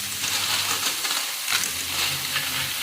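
Halaan clams sauté in a hot frying pan, a steady close sizzle with stirring scrapes that briefly dips before the frying hiss swells back.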